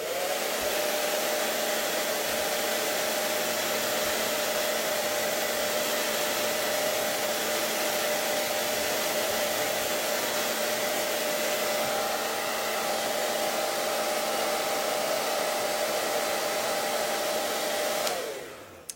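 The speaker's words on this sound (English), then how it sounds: "we're just going to hit it with the blow dryer" A hair dryer blows loudly and steadily with a constant whining hum, running unbroken for most of the time before cutting off near the end.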